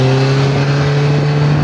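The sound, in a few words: engine revving on Russian piling machine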